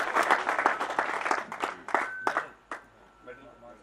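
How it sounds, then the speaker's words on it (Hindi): Audience at a tenth foundation-day anniversary event clapping in a brief, uneven burst of individual claps close by, thinning out into a few last claps as it fades. "जोर से तालियां बजाओ, तालियां जोरदार तालियां।"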